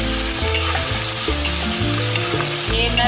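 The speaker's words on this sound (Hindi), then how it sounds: "अब इसमें मैं ये चॉप किया हुआ प्याज डाल दूँगी।" Chopped onions fry in two tablespoons of oil in a wok for besan altay paltay curry, a loud continuous close sizzle with stirring scrapes and no talk.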